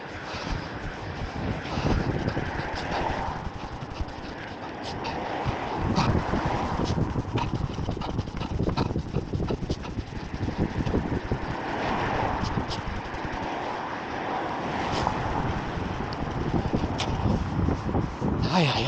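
Gusting wind buffets a microphone outdoors on a dark, cold, wet night run, a loud, continuous rumbling roar with irregular thumps across the whole stretch.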